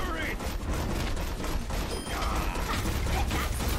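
A gun firing continuously in a video game match with D.Va present: a dense, steady rattling stream of shots with mechanical clatter, loud and unbroken for the whole stretch, with game sounds layered underneath.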